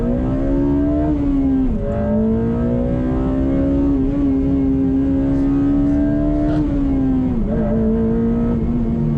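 Honda Civic Type R FD2 Mugen RR engine droning loud and close from inside the car while driving, holding a steady tone with a couple of brief dips and rises as the driver shifts gears.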